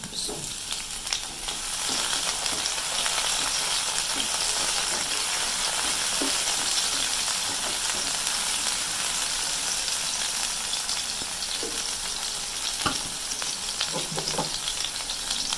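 Browning onions, tomatoes and green chilies for an aloo Shimla mirch salan fry in a pan, a loud, continuous sizzle with occasional stirring clicks, close by and with no talking.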